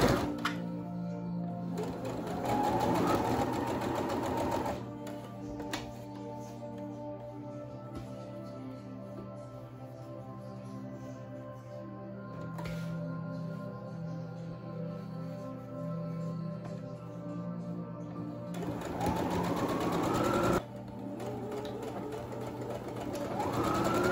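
A sewing machine runs in sustained whirring bursts, back stitching the seam of a reusable fabric face mask, loud and close, with a pause in the middle before the motor starts up again.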